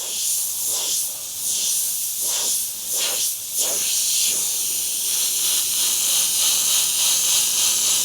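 A continuous high, airy hiss of an airbrush spraying acrylic art paint, briefly pulsing and dipping a few times before settling into a steady jet.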